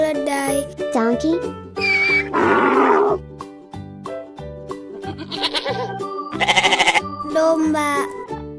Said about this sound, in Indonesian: Domba. Sheep.